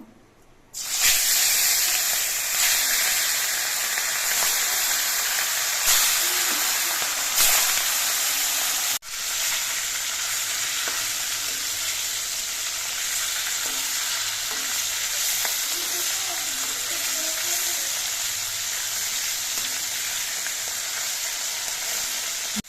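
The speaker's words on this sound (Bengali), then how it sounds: "এবার ইলিশ মাছগুলো আমি হালকা করে ভেজে নেবো" Loud, steady sizzle of hilsa fish frying lightly in hot oil, a continuous crackling hiss with a brief dip partway through, no voices.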